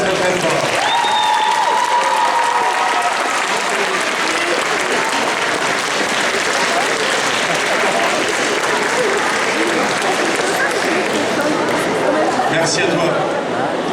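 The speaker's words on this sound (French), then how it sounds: "On l'applaudit encore très très très très fort." An audience at an award ceremony applauds in a sustained, even roar of many hands clapping for over ten seconds, with chatter and a voice mixed in.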